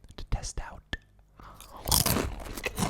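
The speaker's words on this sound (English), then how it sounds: "it's a very satisfying crunch when you put that in your mouth and you eat it" Takis rolled tortilla chips crunch loudly in a close mouth, sharp bites followed by a dense burst of chewing, with whispery breaths between.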